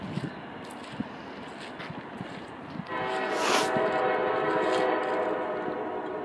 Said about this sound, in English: Might be a P5 horn.